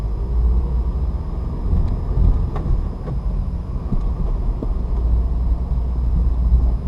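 A manual-transmission car pulls away in first gear as the clutch comes out. A steady low engine drone fills the cabin throughout, with faint interior knocks and no voices.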